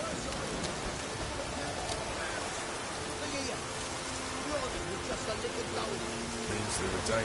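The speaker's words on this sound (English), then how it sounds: "Looks like rain." Steady rain falling in a video game, a continuous hiss of drops with soft patter throughout, at moderate level, with faint background voices mixed under it.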